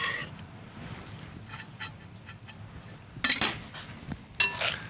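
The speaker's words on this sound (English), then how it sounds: "Gently stir this through because you don't want to bash this up too much." A spoon folds chopped coriander through fresh salsa in a bowl, giving soft scraping and a few sharp clinks against the bowl rim, moderately close and otherwise quiet.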